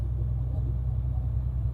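In Euro Truck Simulator 2, a truck's engine gives a continuous deep, even rumble at close range, steady and unchanging for the whole short stretch, with no talking.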